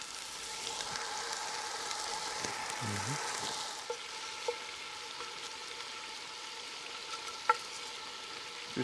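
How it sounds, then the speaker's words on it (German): Pork cheeks from a suckling pig browning in a hot Dutch oven, a continuous frying sizzle with a few scattered pops and a brief scrape partway through. "Wir bräunen die jetzt alle gemütlich an"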